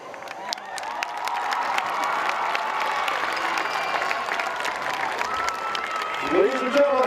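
A crowd at a high school football game against John Hope of Chicago applauds and cheers the Geneseo High School Maplettes, a steady wash of clapping with scattered shouts that runs the whole time and swells briefly near the end.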